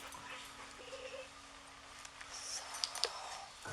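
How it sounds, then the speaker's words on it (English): Police K9 dogs whine and whimper faintly with a few brief high yips near the end, over quiet background hum and scattered small clicks. "They were not barking, but sounded like they were whining."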